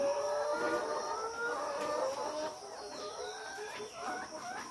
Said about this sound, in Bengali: মুরগিগুলো অত্যন্ত প্রাণবন্ত